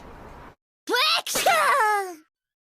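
Akane, an animated girl, sneezes as a cyclist rides past: a short breathy intake, a brief pause, then a sharp close burst trailing into a pitched, wavering vocal tail.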